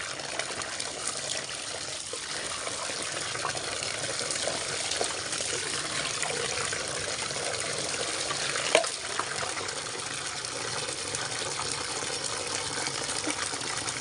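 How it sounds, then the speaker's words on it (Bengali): Water poured over the head during an outdoor bath on a sunny rooftop, heard as a steady broadband splashing gush that runs throughout, with one brief louder splash near the end and no talking. "আমি মাথায় জল ঢালছি"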